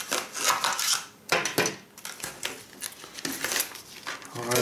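Scissors cutting open the plastic packaging of an LED armband during an unboxing, crinkly snips and rustles coming in several short bursts, close up, with no talk.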